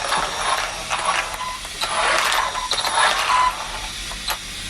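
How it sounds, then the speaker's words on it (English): Small cooling fans on Surpass Hobby brushless ESCs in a converted RC Ramraider give a loud, close, steady high whir with faint mechanical rattles and no talking. "I completely forgot how loud the fans are on the Surpass Hobby ESCs"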